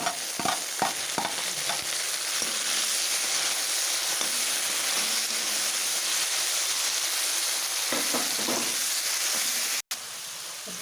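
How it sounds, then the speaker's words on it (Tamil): Tomatoes frying in a pan with onion, garlic and green and red chilies for an okra tamarind curry: a loud, steady sizzle with occasional stirring scrapes and clicks, with no talking. "இப்போ அதோட தக்காளி போட்டு சேர்த்துக்கலாம்"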